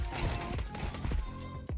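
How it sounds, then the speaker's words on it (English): Scattered video game gunfire crackles in quick bursts over a busy, noisy mix of music and background sound, the shots close and sharp, with a voice speaking briefly. "Shooting at me, bro?"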